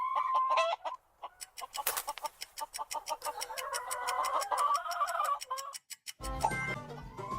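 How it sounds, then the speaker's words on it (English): Chicken clucking in a series of sharp, close clucks and squawks that rise into a longer excited cackle, followed by a short burst of other farmyard noise at the end, with no talking. "Here's a chicken."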